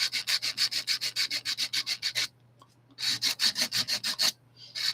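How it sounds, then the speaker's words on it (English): A file rubs back and forth over hardened acrylic on a Barbie doll's neck repair, quick close rhythmic rasping strokes in two bursts separated by a short pause. "as you start filing to make it even and smooth, that'll come off"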